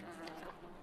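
Flies buzz faintly in a brief, steady insect drone, with no voices over it.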